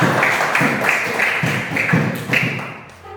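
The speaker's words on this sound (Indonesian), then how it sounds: "Tepuk tangan untuk kita semua." Classroom applause from an elementary school class, a steady patter of many hands clapping together for about three seconds, fairly close and dense, tapering slightly at the end.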